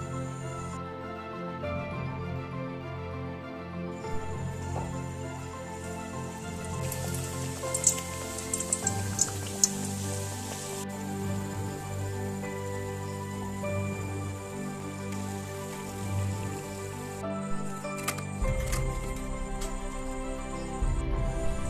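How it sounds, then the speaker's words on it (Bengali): Stuffed chatur kochuri frying in hot oil, a steady dense sizzle and crackle that runs throughout with small pops scattered across it. "এবার বেলে ভেজে নেব"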